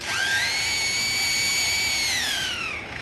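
A lyrebird imitates a power drill with a single sustained, rising-then-steady electric whine lasting about three seconds, close and clear, with no talking.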